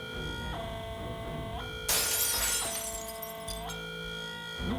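Crystal glass shatters loudly in the Hitman 3 video game, a single sharp crash with a bright spray of fragments that cuts across steady game music and tones, then trails off as the music continues.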